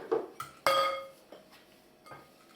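Eggs with a pinch of salt, oil and sugar being mixed in a bowl for baked cherry-filled doughnuts, with a utensil clinking sharply against the dish in a few separate knocks, close and fairly loud, no talking.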